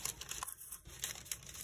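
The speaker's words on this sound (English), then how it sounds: "For all of you who enjoy ASMR paper sounds, this is just for you." Tracing paper crinkles and rustles softly, with faint, close crackles and a light tearing texture that come in uneven bursts, quiet and alone.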